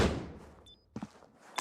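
A flashbang grenade goes off in a competitive video game match: a loud, broad blast at the start fades out, then a couple of sharp knocks follow.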